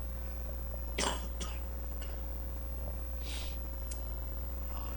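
A couple of short, faint coughs in a quiet room with a steady low hum, followed by soft throat noises.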